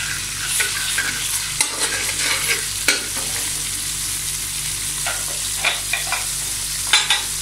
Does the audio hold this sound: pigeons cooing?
no